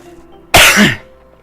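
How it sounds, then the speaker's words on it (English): A single harsh cough bursts out close up, loud and brief, against a quiet background. "that cough is really starting to bother me now"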